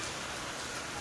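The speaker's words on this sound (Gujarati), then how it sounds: "ધોધમાર વરસાદ અત્યારે ચાલુ થઈ ગયો છે" Heavy unseasonal rain pours down in Ingorala, Gujarat, a dense, even hiss of downpour filling the whole moment with no break and no voices.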